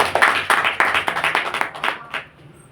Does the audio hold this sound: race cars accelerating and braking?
no